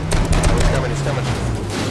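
Rapid gunfire in the battle royale game H1Z1 crackles in a quick burst of close shots early on, then thins into a rougher, steady rattle beneath a talking voice.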